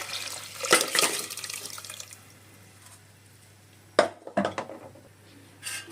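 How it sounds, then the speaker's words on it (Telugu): Water and rice are poured into a pot of fried leafy greens for a home-cooked pulao, giving a short splashing pour, a quiet stretch, then a second burst of sloshing and a faint clink of cookware. "ఇప్పుడు దీంట్లో మనం ఈ వాటరు అండ్ రైస్ మొత్తం వేసుకోవాలి"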